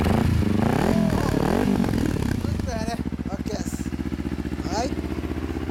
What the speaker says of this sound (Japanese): ごめん、エンジン聞かせてもらえる？